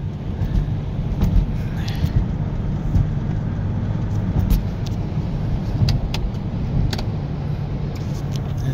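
A car cruises in fifth gear at roughly 50 to 60 miles an hour at night, its steady engine and road drone filling the cabin with faint rattles and ticks throughout.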